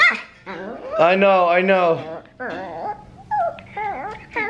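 A puppy yips, whimpers and growls in short bursts, with a high whining cry in the middle, close and loud, mixed with a person talking over it.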